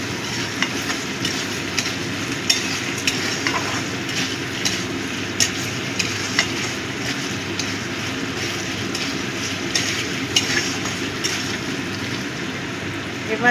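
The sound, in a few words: stirring ginger garlic paste frying in a pan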